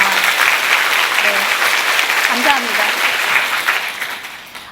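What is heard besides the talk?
audience applause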